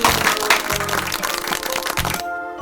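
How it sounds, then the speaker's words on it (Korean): Applause for an ant and a grasshopper in a Tinkercad coding lesson, a short burst of clapping with a crackly texture that fades near the end. "박수!"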